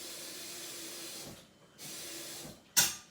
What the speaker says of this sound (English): I'm going to sharpen my knife just a little bit